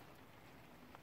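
Rain falling steadily in a yard among wallflowers, a faint, even patter with a soft hiss throughout and no voices.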